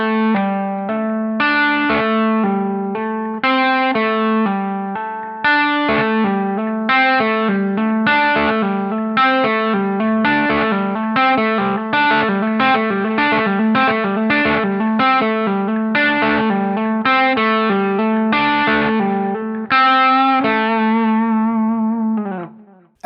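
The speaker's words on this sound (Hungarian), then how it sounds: "Ebben a gyakorlatban ugye a pentaton skálát használtam, kiválasztottam 2 egymás mellett lévő húrt, és az azokon lévő hangokat játszottam." An electric guitar played with hybrid picking runs through a pentatonic scale on two adjacent strings, a steady stream of bright, distorted plucked notes with effects, alone and close for over twenty seconds before the last note rings out.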